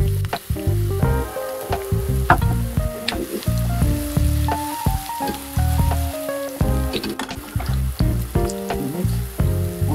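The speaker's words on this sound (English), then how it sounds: "I'm gonna let that saute for about 2 to 3 minutes before adding the other ingredients." A small chopped red onion sautés in hot oil for a stew, with a loud, close, steady sizzle broken by clatters and scrapes as it is stirred.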